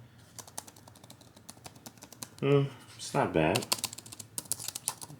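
Typing on the keyboard of a Lenovo IdeaPad Chromebook Duet 5 13-inch, a quick run of light clicky keystrokes heard up close, with a person talking briefly over part of it.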